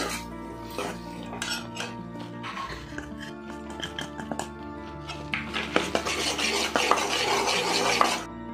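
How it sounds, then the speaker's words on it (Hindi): Besan gram flour is stirred in ghee in a pan over a low flame, with repeated scraping and clinking of a spoon against the pan under a soft sizzle, growing busier and louder toward the end, with no talk. "अब इसमें डालते हैं हम, इसे जल्दी से चलाना शुरू कर देंगे, नहीं तो क्या होगा, बेसन चलना शुरू हो जाएगा।"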